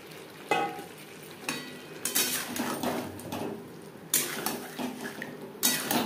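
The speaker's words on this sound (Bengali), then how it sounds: "এবার দিয়ে দেবো ভেজে রাখা আলু।" Fried potatoes tipped into cooked-down spice paste in a pot, heard as clattering metal knocks and scrapes of a spoon against the pot over a soft sizzle, with no one speaking.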